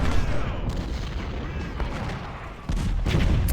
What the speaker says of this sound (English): You're sitting there taking cannon fire.